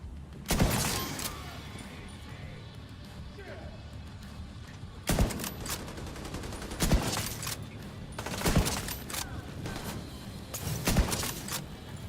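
Sharp bursts of video game gunfire crack out at intervals, several separate volleys with quieter gaps, while a player talks over the action.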